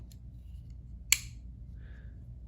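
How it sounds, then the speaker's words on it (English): A single sharp metallic click at close range, a Spyderco Pattada C204G folding knife's liner lock snapping shut, alone against faint background hiss. "it's a liner lock that has one of the most precise sounds in the liner lock world"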